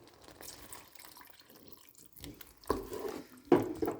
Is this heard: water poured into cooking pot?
yes